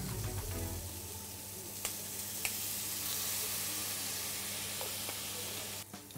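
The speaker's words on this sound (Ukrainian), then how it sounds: "На першій стороні ми обсмажуємо просто на олії" Shrimp frying in plain oil on the first side, a steady close sizzle and hiss running throughout with a few brief pops and clicks, no talking.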